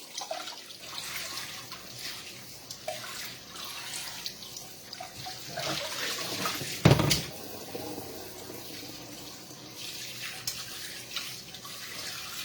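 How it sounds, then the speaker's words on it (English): Tap water runs steadily over a fish fillet being rinsed at a kitchen sink, a soft continuous splashing flow with one brief louder clatter midway, no talking. "So I'll just run it through water."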